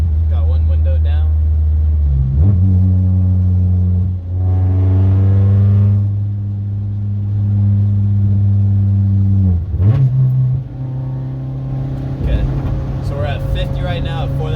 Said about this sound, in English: let me back up here and then I'll get a little acceleration clip.